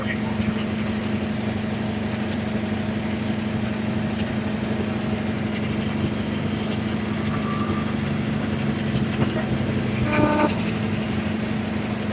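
A train rumbles steadily along a railway, a continuous low drone with a brief louder burst near the end, while voices are faint in the background.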